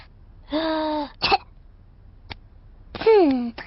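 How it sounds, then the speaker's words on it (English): A cartoon piglet's voice performing a pretend doctor's check-up: a drawn-out vocal breath sound, then short coughs, a pause, and another breathy cough with a falling voiced tone, all close and clear against silence. "take a big breath in, then cough"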